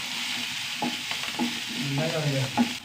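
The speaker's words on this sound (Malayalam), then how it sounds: "ഒരു നല്ല കറിവേപ്പില എല്ലാം കൂടി നന്നായി വഴണ്ട് വയ്ക്കാം" Onions, garlic, green chilli and curry leaves sautéing in a pan, giving a soft continuous sizzle with a few scraping stirs of a spatula, close and moderately quiet.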